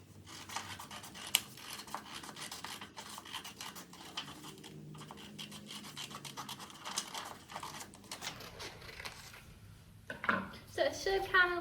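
Scissors cutting a paper plate into a craft shape, a close run of soft snips and rustling paper scrapes over several seconds, ending in a burst of sharper clicks and crinkles.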